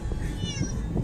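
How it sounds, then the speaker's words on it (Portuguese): Several cats meow over one another in a carrier at a veterinary clinic on vaccination day, a loud, continuous overlapping chorus of cries with no pauses. "E aí está essa sinfonia de miados."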